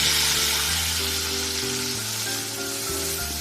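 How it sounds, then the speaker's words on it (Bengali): Spice paste hits hot oil for a vegetarian soybean, paneer and potato curry, giving a loud, dense, continuous sizzle and crackle close up, with no talk. "এখন তৈরি করে রাখা সেই পেস্টটা ধরে দিলাম গরম তেলে"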